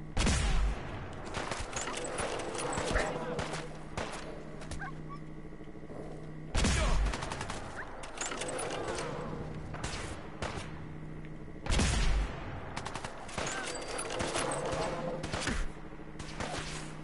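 Sustained gunfire in the video game Fallout 4, with three loud bursts a few seconds apart over a continuous rattle of shots and game background noise.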